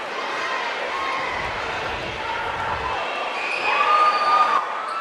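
Sparse crowd in a high school basketball gym during free throws between Pleasant Grove and Lehi, a steady low murmur with scattered shouts throughout.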